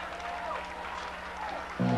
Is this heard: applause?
yes